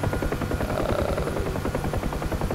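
Rotor noise of a UH-1H Huey helicopter in the DCS flight simulator game fills the whole stretch: a steady, loud, rhythmic blade chop over a dense engine and turbine whine.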